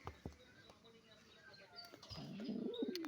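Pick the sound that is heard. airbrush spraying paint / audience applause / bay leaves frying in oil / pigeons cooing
pigeons cooing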